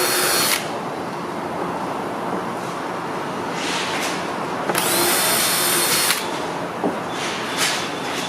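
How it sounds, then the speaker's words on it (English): A power drill whirs steadily while boring through a cracked spa shell at the end of the crack, its pitch rising in several louder surges as it bites in, close and continuous. "Drill through."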